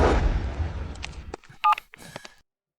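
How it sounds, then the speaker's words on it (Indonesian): Telephone sounds: a short run of dialing tones and electronic beeps from a phone, fairly close and clear, trailing off into silence. "Saya jawab telepon dulu."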